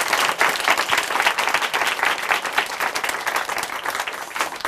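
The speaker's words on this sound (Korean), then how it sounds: "우리 자매님 축하의 박수 한번 보내드리겠습니다." A church congregation breaks into applause, a loud sustained wash of many hands clapping that holds steady throughout without any speech.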